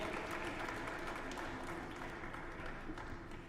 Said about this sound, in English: Another very warm round of applause for Patience.